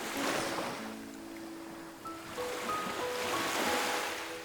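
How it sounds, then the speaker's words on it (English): Ocean waves breaking along the Cape Peninsula coast in South Africa, a steady wash of surf with wind noise, moderately distant and fairly faint, with a faint tonal hum drifting underneath. "listen to the crash of the ocean"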